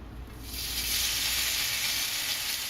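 Smoked bacon hits a hot wok and bursts into a bright, continuous sizzle after a brief quiet start, close and steady to the end.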